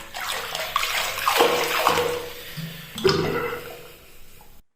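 Shower water running steadily while hair dye is rinsed out, splashing and gushing, with brief changes as it hits hair and skin, close and fairly loud.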